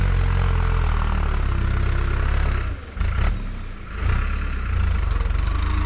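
A tractor engine idles loudly and close by in a village, a steady low rumble that dips briefly midway before settling back to its even throb, with no voices.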